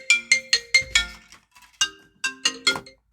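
A phone ringtone from an incoming call plays close by as a series of bright, chiming electronic notes in a quick repeating pattern, with a short pause partway through.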